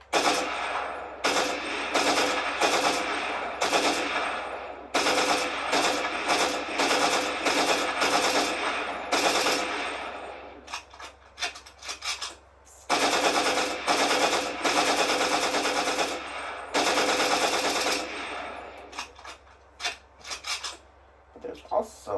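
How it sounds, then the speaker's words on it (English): Several long bursts of rapid automatic gunfire from a combat assault rifle in Fortnite, loud with sharp metallic crackle, separated by short pauses and a few scattered single shots. "Combat AR. This is one of my favorite ones because it has a good sound to it."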